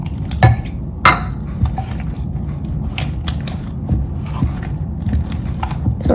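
Henna paste mixed with beetroot juice and a decoction is stirred in a bowl: wet, close scraping and squelching, punctuated by a couple of sharp clinks of the utensil against the bowl early on.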